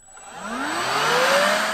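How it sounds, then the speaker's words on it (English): A battery-powered leaf blower starts up from near silence, its electric whir rising steadily in pitch and loudness over a second or so, with a thin high whine on top, heard up close and alone. "Compare this sound to a battery-powered leaf blower"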